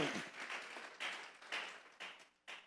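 A church congregation at a Sunday service applauds, with bursts of clapping that swell and fade at roughly half-second intervals, moderately loud and without speech over them.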